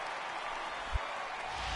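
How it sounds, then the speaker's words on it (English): Steady broadband crowd roar of a home crowd cheering in a baseball video game, MLB The Show 18, sustained and fairly loud throughout with one brief low thump near the middle, no talk. "the home crowd is loving it"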